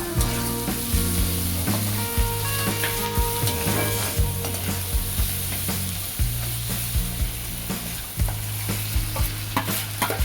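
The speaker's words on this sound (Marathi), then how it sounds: "लसूण जरा जास्त टाकला। तो आपण 1 सेकंदभर परतून घेऊया।" Garlic and turmeric sauté in a pan for Maharashtrian roasted brinjal bharit: a continuous dense sizzle with frequent stirring scrapes and clatter, close and fairly loud, with no voices.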